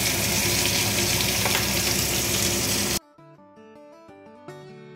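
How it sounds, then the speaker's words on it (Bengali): Pabda fish fries in hot oil with a loud, dense, continuous sizzle for about three seconds, then cuts abruptly to quiet music. "আর এখানে করছি পাবদা মাছ ভাজা।"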